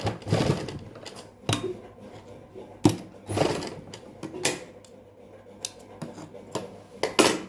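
A sewing machine double-stitches fabric piping in short runs of close mechanical whirring, broken by brief pauses and sharper clicks, with no talking.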